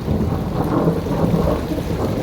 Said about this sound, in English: It's literally not stopped thundering since I stuck my head out the door into the back garden.